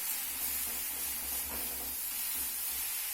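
Okra and potato poppy seed curry is stirred in a pan with a soft, even hiss of cooking and faint scraping, quiet and continuous.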